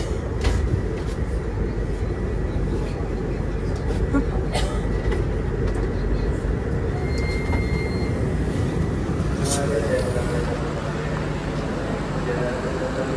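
A KRL commuter train arrives at Lempuyangan station in Jogja, a steady loud rumble of wheels and carriage noise with faint squeals, heard from inside the train while a voice talks over it.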